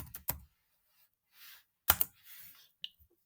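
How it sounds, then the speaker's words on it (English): A word typed on a computer keyboard: a few sparse, crisp key clicks in short bursts separated by near silence, close and quiet. "I type unicorn."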